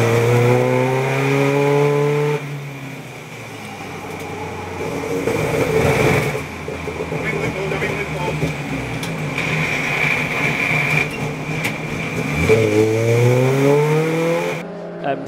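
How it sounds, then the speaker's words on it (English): A BMW race car at Silverstone during a six-hour relay race, engine note rising and falling as it passes close by, loud and sustained, with other cars audible around it. "Here's the BMW then."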